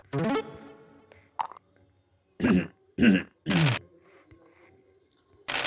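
Someone clears their throat several times in short, rough bursts, close up, with quiet pauses between them.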